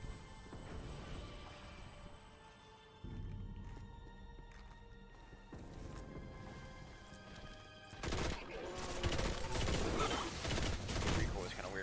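Gunfire from the new Nolan rail gun in a video game, loud shots that turn into a dense burst of firing near the end, over a steady game background.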